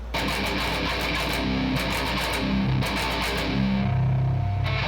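Distorted, palm-muted electric guitar chugs in tight bursts with a steady rhythmic pulse, playing a heavy low metal breakdown riff against a constant noisy hum.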